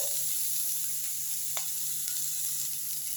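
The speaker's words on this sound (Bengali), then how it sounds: "শাকটা আমার ভালোভাবে ভাজাও হয়ে গেছে" Bottle gourd greens fry in a pan with a faint, even hiss that holds steady throughout, broken by one brief clink of a utensil near the middle, with no talk.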